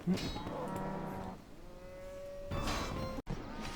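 A cow moos in the RuneScape video game, a long drawn-out lowing call over steady game background sound, followed by a second moo near the end.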